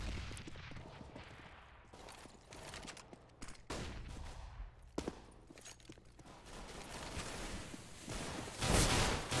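Pistol gunfire sounds in a Counter-Strike match on the Mirage map, with rapid overlapping shots and bursts in a steady, busy stream of game noise.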